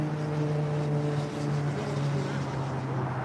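A United Airlines Boeing 787-10 Dreamliner departs a runway at LAX, a steady low engine roar with strong tonal hum, continuous and fairly distant, with faint voices underneath.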